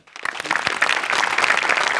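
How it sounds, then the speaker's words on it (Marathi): Studio audience applause on a Marathi comedy show stage, a burst of clapping that starts abruptly and swells to a steady, dense wash lasting about two seconds. "तुझ्या अटेम्प्टसाठी टाळ्या व्हायला पाहिजेत."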